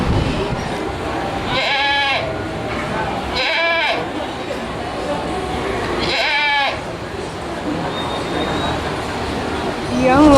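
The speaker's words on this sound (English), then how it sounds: "this goat has not been sheared." An unshorn Angora goat on a farm gives three loud, wavering bleats at close range, evenly spaced over steady outdoor background noise.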